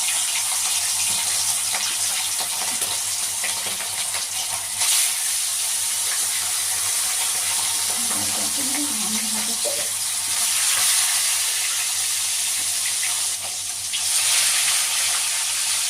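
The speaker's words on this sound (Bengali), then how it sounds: "তেল আমার গরম হয়ে গেছে ভালো মতো এবার আমি আঁচটাকে একটু কমিয়ে রাখবো আলু ছেড়ে দেবো" Potatoes fry in hot oil in a pan for a Bengali fish curry, giving a steady, close hiss and sizzle that swells slightly at moments, with no talk.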